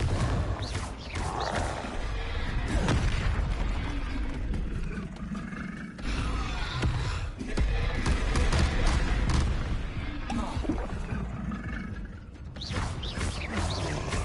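Spell casts in Hogwarts Legacy, Glacius, Depulso and Confringo, set off dense roaring blasts and whooshes. Layered explosions and rumbles follow one another almost continuously in busy combat, loud and close.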